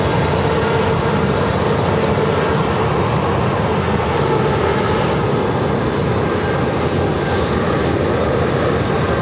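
A plane taking off from runway 7 left at Phoenix Sky Harbor airport, a loud continuous jet engine roar that holds steady throughout, with no one speaking.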